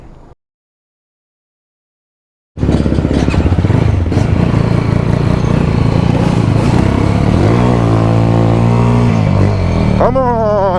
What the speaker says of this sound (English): This is a YZ 125 2021.